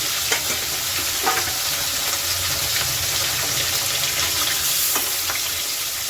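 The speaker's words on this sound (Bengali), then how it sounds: "তো মাছগুলো আস্তে আস্তে দিয়ে দিচ্ছি" Katla fish fries in hot oil in a wok, giving a loud, steady, close sizzle with no pause, plus a few brief crackles and spatters.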